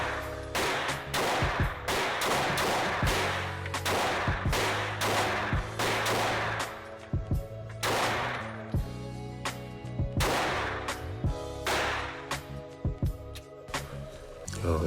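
Taurus pistol shots at an outdoor gun range, a string of sharp reports at irregular intervals, some close and loud, others from neighbouring shooters, over a steady background hum.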